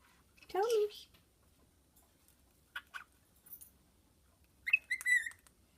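A pet bird gives a few short whistles and chirps in separate bursts, fairly near, with quiet pauses between and a person talking around them.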